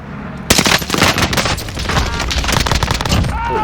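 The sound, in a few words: M1 Garand rifle gunfire in Call of Duty video game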